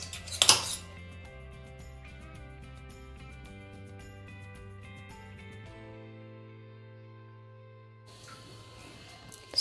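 Metal pan and plate clink while freshly made thothal, a dark Sri Lankan rice halwa, is moved onto a plate: a sharp clatter at the start, then soft ringing tones fading, and a light scraping rustle near the end.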